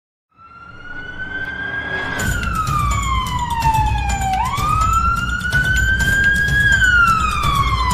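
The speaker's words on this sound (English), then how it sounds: "Time to turn on the siren and flashing strobe lights" A police car siren in an animated cartoon starts up and wails loud and close, its pitch sliding up and down in long sweeps over a rumbling engine.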